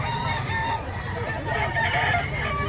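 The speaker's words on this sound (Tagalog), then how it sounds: "Maganda, manok." Batangas fighting roosters crow and cluck amid a busy market, several birds overlapping at close and middle distance over continuous background chatter and noise.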